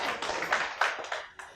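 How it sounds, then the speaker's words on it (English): Audience members at a Nigerian town hall with private school owners give a few scattered, uneven claps in short bursts, fairly close and moderately loud. "Clap for Madam too."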